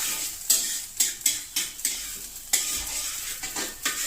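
Onion and ginger paste sizzles in a pan for egg curry, with a steady high hiss and repeated scraping stirs at a fairly even rhythm, close and fairly loud, no talking.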